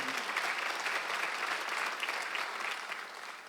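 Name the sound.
church congregation applause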